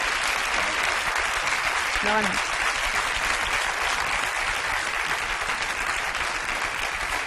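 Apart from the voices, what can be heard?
audience applause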